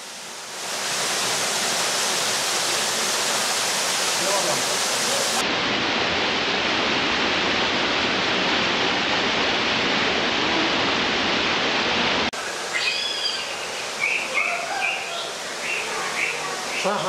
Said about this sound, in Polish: Woda tłoczona z dolnego stawu wraca do obiegu, spływając kaskadami efektownego wodospadu.